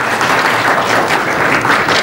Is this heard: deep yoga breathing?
no